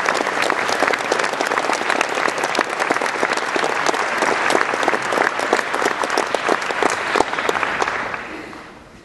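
A large audience claps warmly to welcome Dr. Martin Emmrich at a debate event. The steady, dense applause lasts several seconds before fading at the end.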